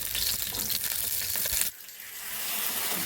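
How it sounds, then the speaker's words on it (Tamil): Oil sizzles loudly on a hot dosa pan for a South Indian breakfast, a steady close hiss that drops off sharply partway through and then settles into a quieter, even sizzle. "தட்டிலேயே நம்ம வந்து எண்ணெய் கொஞ்சம் ஊற்றிக்கலாம்."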